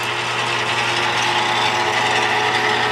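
A lathe's power feed runs with a steady, loud mechanical hum and a faint ticking texture, unbroken for the whole stretch and with no voices.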